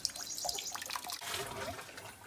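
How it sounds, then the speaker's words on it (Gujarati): Water splashes and trickles steadily from a motor-pump pipe at a cow shelter, a close, bubbly gushing with small irregular spatters, moderately quiet. "જો મોટર ચાલુ થઈ ગયો અને પાણી આવવા માંડ્યું છે"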